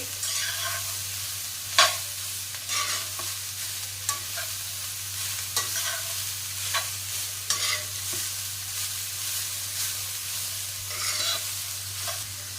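Grated carrot halwa mixture stirred in a pan, a steady soft scraping and sizzling with sharper spoon knocks against the metal every second or two, close and alone.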